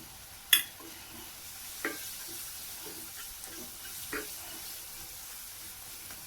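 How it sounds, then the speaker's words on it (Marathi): Gram flour stirred into a methi pithla, with a gentle bubbling hiss and soft, irregular scraping strokes after one sharp knock at the start. "आपण पिठल्याला कसं पीठ टाकतो तसं पीठ टाकून व्यवस्थित ते मिक्स करून घ्यायचे"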